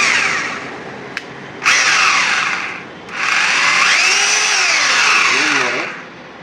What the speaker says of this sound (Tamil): இது வந்து ட்ரில்லிங் மாடல்